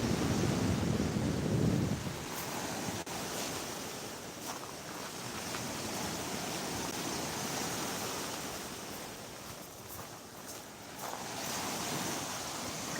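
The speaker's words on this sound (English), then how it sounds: "it's nice to hear the sound of the waves" Waves breaking on the Black Sea shore, a faint, steady wash of surf mixed with wind rumble against the microphone, no voices.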